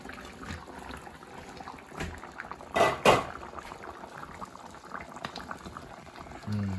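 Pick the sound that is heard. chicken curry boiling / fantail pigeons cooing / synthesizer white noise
chicken curry boiling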